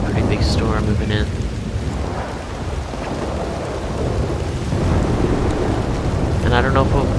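A heavy rainstorm with rolling thunder at night in the open-world game Red Dead Redemption 2: steady loud rain hiss under deep, continuous rumbling, with faint brief calls near the start and end.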